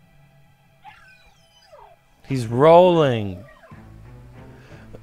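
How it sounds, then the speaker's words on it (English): Video game dog from Luigi's Mansion 2 HD giving a brief whimpering, warbling yelp that rises and falls, set against quiet game ambience, with a short spoken line nearby. "do you remember how much you loved this dog?"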